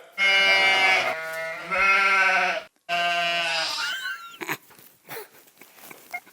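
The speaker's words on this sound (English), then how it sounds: "They're all goats." Three long, loud goat bleats come in close succession, followed by quieter rustling and a few faint clicks.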